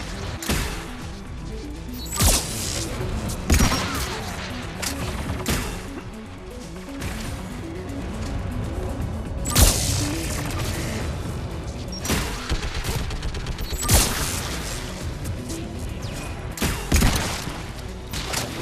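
Turret gunfire in Mass Effect 3 on Rannoch, with repeated sharp blasts and crashing impacts arriving in irregular bursts over a continuous rumbling battle din, loud and close, with no talk.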